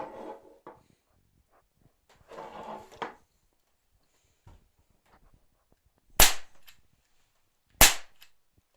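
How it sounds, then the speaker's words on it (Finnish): A KWC PT24/7 Taurus CO2 air pistol fired without its suppressor gives two sharp, loud cracks about a second and a half apart. They come after a stretch of quiet handling rustle. "Selvästi vähän terävämpi ja kovempi ääni ilman tuota vaimenninta."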